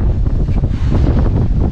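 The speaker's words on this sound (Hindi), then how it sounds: "ठंडा ठंडा हवा चल रही है" Cool wind sweeps across the hilltop of Takmak Fort near Virar, buffeting the microphone with loud, continuous gusty roaring and no voices.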